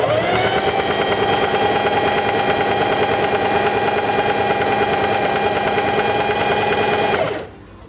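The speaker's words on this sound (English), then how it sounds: "begin sewing" Singer Heavy Duty 4411 sewing machine stitching fabric, a loud, fast, steady mechanical whirring chatter that runs continuously, then abruptly stops near the end.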